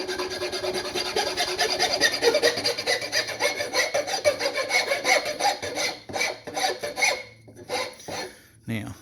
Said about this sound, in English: Back to the wider rasp.